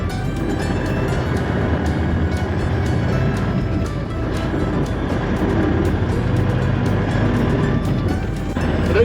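Farm truck driving along after its brakes have freed up, a loud, steady engine and road rumble with continuous drone and no breaks.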